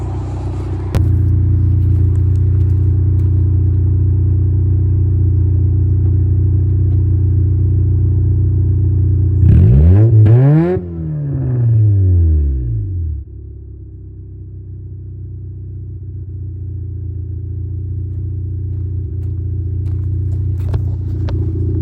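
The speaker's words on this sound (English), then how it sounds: "I'm gonna set you out here and give her a little rev." A 1989 Honda Civic sedan with the back end of its exhaust pipe missing idles loudly and close, climbs through one brief rev and falls back to a steady rumbling idle.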